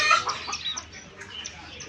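Chickens clucking and squawking in a lively cluster, fairly close, with busy background chatter and activity around them.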